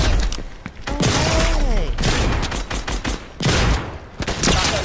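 Heavy shotgun blasts boom in a zombie video game set in a town, several loud, close shots in quick succession mixed with crashing impacts and game effects.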